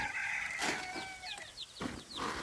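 One-day-old broiler chicks on a Thai farm peep as feed is scattered for them: a busy chorus of short, high, sweeping chirps overlapping throughout, close and fairly loud, with no talking.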